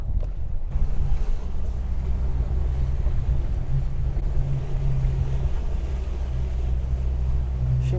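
Lodos wind blowing steadily across a harbour with boats near the pier, a continuous rumbling roar with low, wave-like surges and buffeting against the microphone, loud and unbroken throughout.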